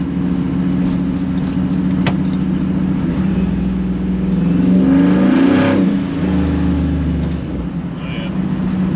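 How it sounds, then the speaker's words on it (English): A 1957 Chevy rolling on the road on four-wheel studded tires, giving a steady loud growling drone of engine and tire noise from inside the car, swelling slightly midway, with faint voices underneath. "the growling of the tires is kind of cool"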